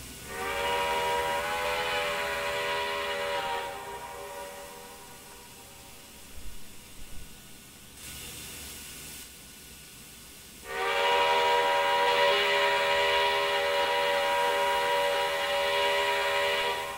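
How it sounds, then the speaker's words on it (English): A simulated steam whistle from a CN U1f 4-8-2 Mountain locomotive in Trainz 2019 blows two long steady blasts, separated by a quieter gap with faint clunks, loud and close with a looping sustained tone. "got a nice whistle. I do like it. It does have a little bit of a loop if you really listen."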